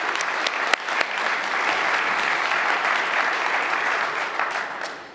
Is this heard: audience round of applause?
yes